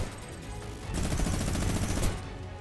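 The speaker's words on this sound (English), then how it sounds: "Can the minigun menace?" A minigun fires in Fortnite in a dense, rapid burst of gunfire that continues without a break and grows louder partway through.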